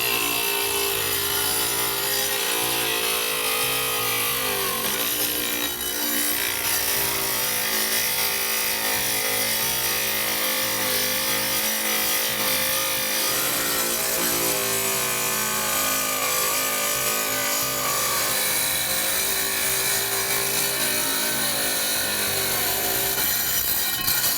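A wet tile saw cuts stone veneer for a fireplace, including a 45-degree miter cut, with a continuous loud grinding whine and rough rasping texture that holds steady throughout, with no talking.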